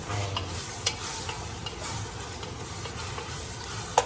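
Tomatoes cooking in a pan with a soft steady sizzle and occasional stirring scrapes and clinks, fairly quiet and close, with no talking.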